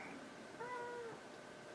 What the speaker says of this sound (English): And the kitty's meowing.